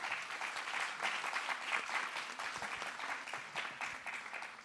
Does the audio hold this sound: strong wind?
no